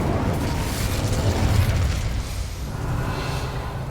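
The Incendio fire spell in the video game Hogwarts Legacy goes off as a loud, roaring burst of flame with a deep rumble that peaks briefly and then settles into a crackling wash.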